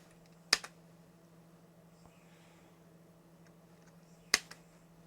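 Keys on a computer keyboard are pressed while a password is entered, two crisp, isolated clicks a few seconds apart over a faint steady hum in a quiet room.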